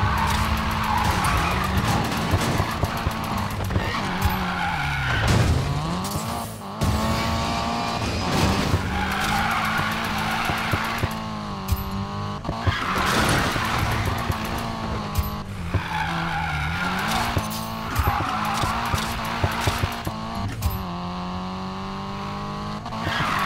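In the racing video game Need for Speed Payback, a car drifts with loud, repeated tire squeals and skidding over a roaring engine that revs up and down through turns, close and continuous.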